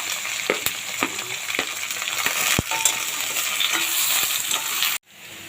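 Onions and curry leaves sauté in a hot pan, with a steady bright sizzle and scattered scrapes and taps of a stirring spoon, close and continuous until the sound cuts off near the end.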